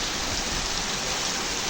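Steady rain falls outdoors as a dense, even hiss of broadband noise with no breaks, fairly loud and close, with no voices over it.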